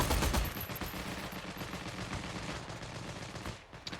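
An MG13 machine gun in the video game Heroes and Generals fires a long sustained burst from its bipod, rapid dense shots rolling together loudly and close before cutting off near the end.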